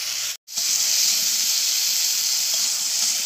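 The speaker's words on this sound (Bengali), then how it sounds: "আর কুলগুলোকে কিন্তু এইভাবে নেড়ে চেড়ে ভাজা ভাজা করে নিতে হবে।" Jujubes (kul) frying in a pan for a winter chutney give a loud, steady hiss that fills the whole stretch after a brief gap near the start.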